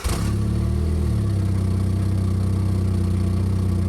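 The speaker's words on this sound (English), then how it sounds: "we're obligated to start it so we can hear what that little four-cylinder truly sounds like" Small four-cylinder car engine idling through its stock muffler exhaust, a steady, loud, even drone with a low rumble and a brief higher burst at startup, close up and without voices.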